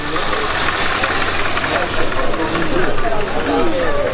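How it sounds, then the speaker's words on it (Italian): An Alfa Romeo Giulia 1300 Ti engine idles steadily with a close, even mechanical throb among a gathered crowd, with people talking over it. "il vecchio Marvin qua in mezzo alla gente ha fatto mettere in moto una Giulia"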